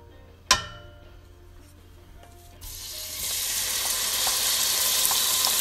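Onions tipped into a pan of frying beef, a sharp clatter followed by a loud, steady sizzle that swells and holds, with faint scraping ticks underneath; no one speaks.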